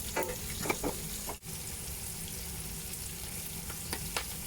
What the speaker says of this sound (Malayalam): വേവിച്ച കക്ക ഇതിലേക്ക് തട്ടി മിക്സ് ചെയ്യുക